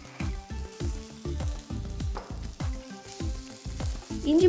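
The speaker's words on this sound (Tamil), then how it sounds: "இஞ்சி பூண்டு பேஸ்ட் சேர்த்ததுக்கப்புறம் 2-3 நிமிஷம் வதக்கணும்." Onions, green chillies and ginger garlic paste fry in a hot pan for a chaat masala, with a steady loud sizzle broken by regular scraping stirs, no voices.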